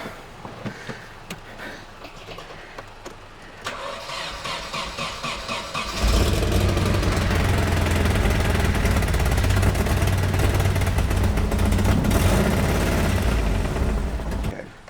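A Nissan 240SX S14 engine cranks for several seconds with a squealing starter, then catches at about six seconds and settles into a loud, steady run close by, the mid-range engine note filling the rest of the recording.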